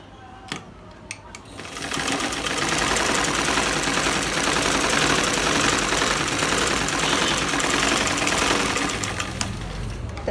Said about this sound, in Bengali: সেলাইটা আমি ডাবল করে দিয়ে দিচ্ছি।